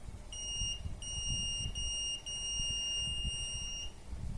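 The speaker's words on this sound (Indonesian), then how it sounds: "Ketika di depan sensor ada objek kurang dari 200 cm, maka buzzer akan menyala." An HC-SR04 ultrasonic sensor home security alarm sounds its buzzer, a shrill high-pitched electronic tone pulsing in a few long bursts with short gaps, faint over low background noise.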